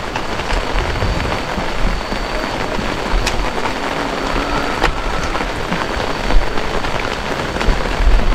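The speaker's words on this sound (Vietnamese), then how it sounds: "Ôi, mưa quá." Heavy rain pours steadily and loudly onto surfaces nearby, a dense, even hiss lasting throughout with no voices.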